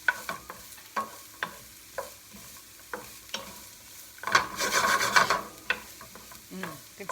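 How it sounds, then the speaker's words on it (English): A wooden spoon stirs fried rice with onions and carrots in a pan, giving soft rhythmic scraping strokes about once a second over a quiet sizzle, with a louder burst of rustling and sizzling midway, no talking. "We take our wooden spoon and just kind of stir that around."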